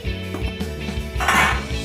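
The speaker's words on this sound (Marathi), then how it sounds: "हे आत्ता पूर्णपणे हलवून घ्यायचं आहे।" A spoon stirs homemade vermicelli with chopped coriander in a pot of boiling water, giving close, repeated metallic scrapes and clinks against the pot.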